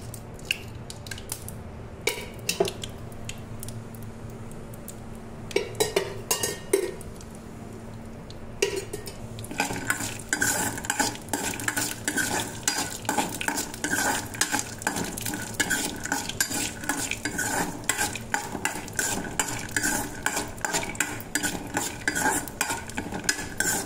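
Peanuts fry in a little oil in a kadai and are stirred, quiet scraping at first, then a dense, busy rattle and scrape of nuts tossed against the metal pan.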